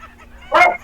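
A single short dog bark rings out close by, one sharp yelp-like burst against a quiet background.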